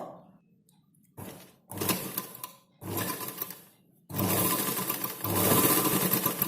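A sewing machine stitches a blouse in several bursts of rapid, buzzing needle runs separated by short pauses, close and fairly loud, the later runs longer and stronger.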